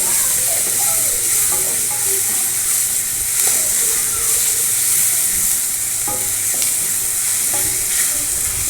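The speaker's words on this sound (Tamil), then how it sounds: "நல்லா மசாலாவோட பிளெண்ட் பண்ணி நல்லா ஃப்ரை பண்ணிக்கோங்க" Ridge gourd fries with masala in a pan, giving a loud, continuous close sizzle and hiss, broken by intermittent scraping stirs of a spoon against the pan.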